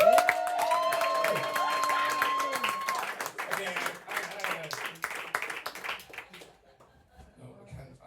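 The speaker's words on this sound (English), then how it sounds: "So big round of applause for Ketu Ngatu." A comedy club audience claps for the next act, a crowd round of applause that thins out after about six seconds, with the emcee's voice heard over the start and some chatter afterward.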